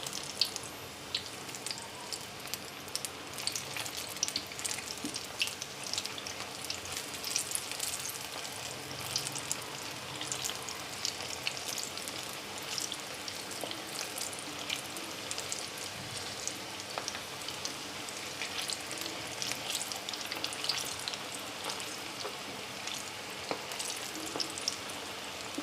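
Chillies frying in hot oil over a medium flame for patti bhajiya give a steady, close, crackling sizzle that runs unbroken throughout.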